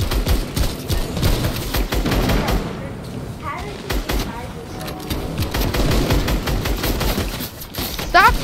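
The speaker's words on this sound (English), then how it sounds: "Stop shooting at me." Rapid automatic gunfire from a Fortnite Battle Royale match, loud bursts and continuous rattling volleys running throughout, with a player's voice talking over the shooting.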